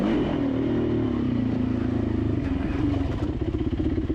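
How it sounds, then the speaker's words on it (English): A dirt bike in a sprint enduro at Georgetown OHV revs behind the rider, its engine note rising and falling in a busy, rattling drone that grows choppier toward the end, with no talk. "there's someone behind me now. I can hear him revving."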